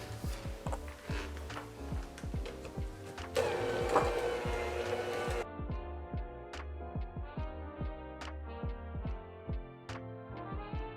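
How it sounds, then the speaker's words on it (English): Electric mixer beating powdered sugar, butter and salt into a sable cookie dough, a quiet, steady motor whir with repeated ticking and clattering throughout and a louder gritty burst in the middle. "And then we'll mix this all together for just 1 minute."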